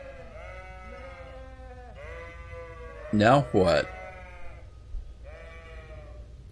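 A priest character in Kingdom Come: Deliverance bleats like a sheep in a few wavering, drawn-out cries, with a brief spoken remark and some louder vocal bursts in between.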